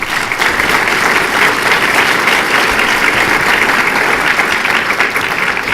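Audience at a Del Ray Business Association mayoral debate claps in loud, sustained applause, a dense, even wash of many hands that holds steady throughout without a break.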